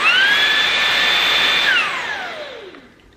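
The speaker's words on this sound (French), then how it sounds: "je vais repasser un coup d'aspirateur" A Dream V11 cordless vacuum cleaner roars loudly at turbo power with a steady high-pitched motor whine, then spins down over its last second and a half as the pitch slides away and fades.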